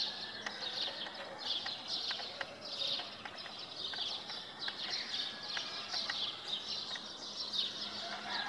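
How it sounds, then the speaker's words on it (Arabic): Small sparrows chirp outdoors on a cloudy morning, with many short, overlapping tweets repeating steadily at moderate distance over a soft background hiss, with no voices. "طبعا في صوت عصافير"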